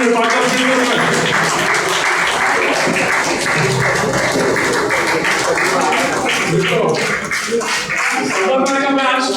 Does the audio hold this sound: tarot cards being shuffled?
no